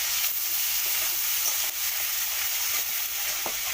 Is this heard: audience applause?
no